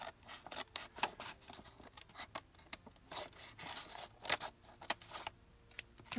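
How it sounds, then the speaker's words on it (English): Scissors snip through paper in a run of short, crisp cuts at close range, with uneven rhythm and brief pauses, while an envelope is trimmed for a page embellishment. "I'm going to cut this."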